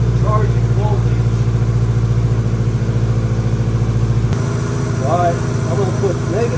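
A 1987 Honda GL1200 motorcycle engine idles with a steady, loud low throb and mechanical clatter, its tone shifting slightly partway through while a voice talks over it.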